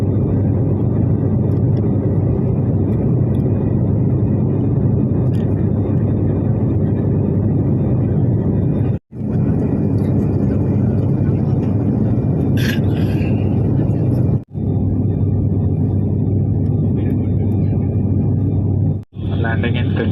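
Cabin noise fills a passenger airplane in flight between Jaipur and Ranchi: a loud, steady, low roaring drone that runs throughout, broken by a few sudden brief dropouts.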